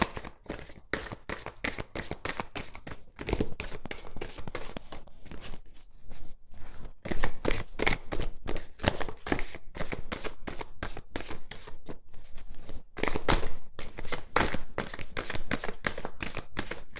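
Tarot cards shuffled and cut in a long run of crisp riffling slaps and taps, close and fairly loud, with brief pauses between bursts.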